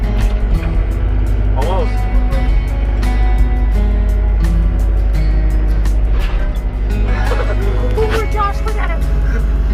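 A skid loader's diesel engine idles and works with a steady low drone while lifting an old Ford F150 frame, with people talking and exclaiming over the running machine.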